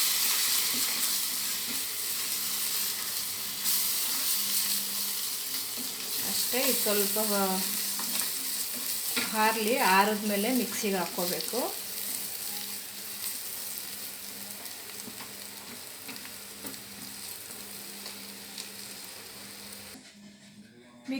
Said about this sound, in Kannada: ಗರಂ ಮಸಾಲ ಹಾಕಿ ಫ್ರೈ ಮಾಡ್ಕೊಳ್ಳೋಣ